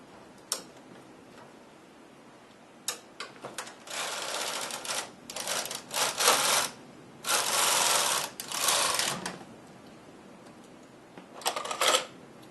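Knitting machine carriage sliding back and forth to knit rows of a golf club cover, bursts of rattling clatter lasting a second or two each, separated by quiet pauses and a few sharp clicks, close and fairly loud.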